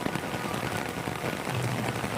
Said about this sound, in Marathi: पाऊस बघा, पाऊस बघा तुम्ही.